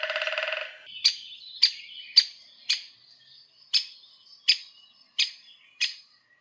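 A woodpecker gives a series of eight short, sharp kick calls, evenly spaced about half a second apart and fairly close, following a brief buzzy burst at the start, with a quiet background.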